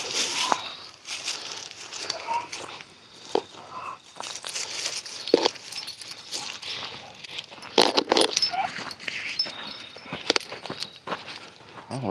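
A dog out on a walk in a park, with footsteps, rustling and jangling keys close by, and occasional faint dog sounds mixed into a busy, uneven outdoor background.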